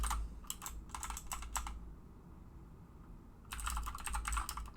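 Fingers typing on a computer keyboard while writing JavaScript code, close and crisp: two bursts of rapid key clicks separated by a short quiet pause.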